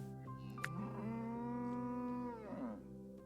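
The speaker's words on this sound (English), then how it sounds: "I did just hear a cow though." A cow in a video game lets out one long, steady moo lasting a couple of seconds, clear and fairly close against a quiet background.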